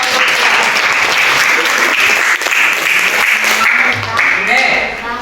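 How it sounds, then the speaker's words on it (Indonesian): An audience claps together in a steady, dense burst of applause that holds for several seconds, loud and close, with voices murmuring underneath. "Ya betul, beri tepuk tangan"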